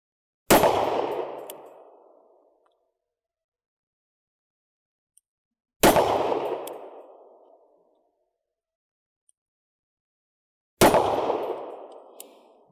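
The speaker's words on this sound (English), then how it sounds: "That one was a bit high, but all rounds fired, cylinder empty" A snub-nosed revolver fires three sharp, loud shots spaced about five seconds apart, each with a ringing decay and silence between them.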